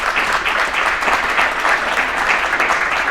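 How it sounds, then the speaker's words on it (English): A crowd claps for a group of former mayors at a Lawrence City Commission candidate forum, the applause full and close with a slightly pulsing texture throughout and no speech on top. "You can give them a round of applause as well."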